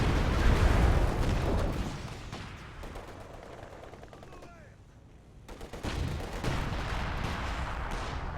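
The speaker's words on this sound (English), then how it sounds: "Massive hit there by the ISU-152." Heavy artillery fire from an ISU-152 self-propelled gun in the World War II strategy game Company of Heroes 2, a loud booming blast followed by rumbling gunfire and battle noise that fades, then swells again.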